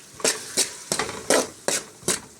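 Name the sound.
stirring gobi manchurian with chili sauce and ketchup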